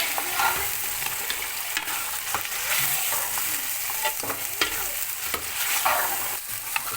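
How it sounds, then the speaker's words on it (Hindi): Pieces of mutton fry in masala for a korma, giving a steady close sizzle broken by frequent stirring scrapes and knocks against the pot. No one speaks. "गोश्त को इस मसाले के अंदर हम भुनेंगे।"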